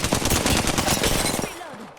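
Rapid automatic gunfire in the video game Apex Legends on PS4, a dense burst of loud close shots for about a second and a half, then a brief quieter tail of game sounds.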